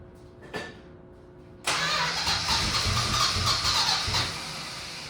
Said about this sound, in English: Start it back up so I can check the fluid.